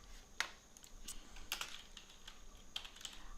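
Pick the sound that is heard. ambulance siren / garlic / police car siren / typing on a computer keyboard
typing on a computer keyboard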